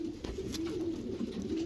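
A breeding male racing homer pigeon coos softly and steadily at close range, a low throaty murmur with no voices.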